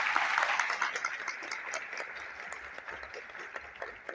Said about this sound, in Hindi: यहाँ राकेश सर है, मोहन सर है, कुलदीप सर है, तो इन लोगों के लिए दोस्तों स्पेशली आज आप और हम ताली बजा के उनका आभार व्यक्त करेंगे।